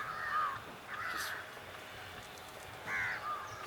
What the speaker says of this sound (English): you just got like crows landing on the fence over here